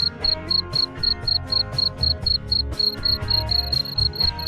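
Crickets kept for breeding in a rearing box chirp loudly and close up, a rapid regular pulsing trill repeating steadily throughout with no voices.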